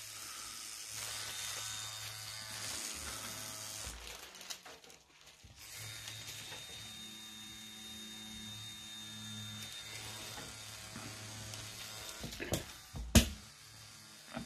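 A tattoo machine fitted with a 9-round liner, running with a steady electric buzz and hum that stops briefly and then resumes, with clicks and handling noises near the end.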